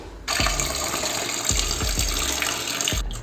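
Water runs steadily from a tap with a few soft thumps and splashes as fish is rinsed beneath the stream.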